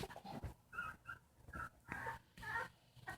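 American bulldog puppies whimper, pant and make small yips as they play together, soft close squeaky whines in short bursts over quiet rustling.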